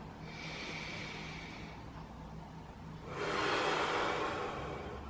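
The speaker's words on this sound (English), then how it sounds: "Exhale. One more deep breath." Two deep breaths during a mindful mobility exercise session, a soft inhale followed by a stronger, louder exhale with a hissing, snort-like rush of air, close up with no talking.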